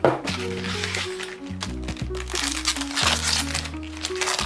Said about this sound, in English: 6 more packs. Let's rip it.